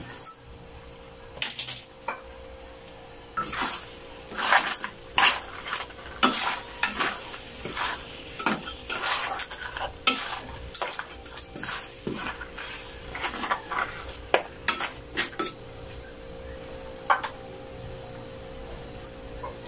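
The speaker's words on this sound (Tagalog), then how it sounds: "templado na ang ating butter garlic. Lagay ko na si alimango." Crab and shrimp cooking in butter and garlic in a pan, with steady sizzling broken by frequent clattering stirs and utensil scrapes against the pan, loud and close, with no voices.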